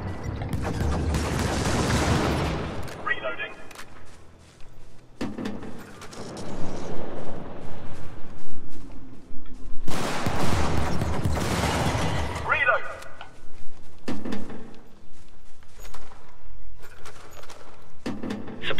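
Bolt-action rifle shots and laser fire in Helldivers come in several loud, crackling bursts spread across the stretch, with mechanical clatter and explosive noise between them and a voice speaking at times.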